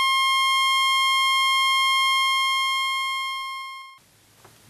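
A sine tone from a tone generator plays through a loudspeaker during an acoustics demonstration: a loud, pure, steady tone lasting about four seconds, then cut off abruptly into quiet room noise.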